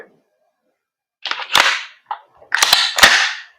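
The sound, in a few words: VFC BCMAIR MCMR 8.5 airsoft gas blowback rifle firing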